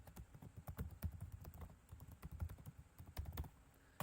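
Fingers tap out an email address on a computer keyboard, a quick uneven run of soft close key clicks with short pauses between bursts.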